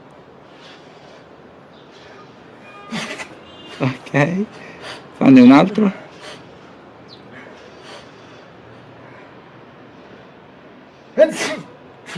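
A person imitates sneezes several times, each vocal burst short and sharp with a clear gap between them, close to the mic. Brief speech comes before and after.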